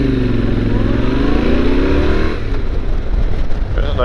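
An old Corvette accelerates past on a road, its engine loud and close with rising harmonics that shift as it passes by, followed by rougher broadband rumble as it moves away.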